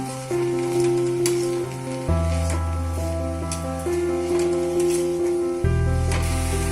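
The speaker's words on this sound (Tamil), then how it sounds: "நம்ம நல்லா வதக்கிக்கலாம்." Mixed vegetables sauté with salt in a pan for a thuvaiyal, giving a steady, continuous sizzle and frying hiss beneath prominent background music.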